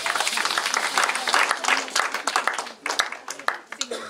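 A church congregation breaks into sustained applause and cheering, dense crowd clapping that thins into scattered claps toward the end, with a voice speaking over it.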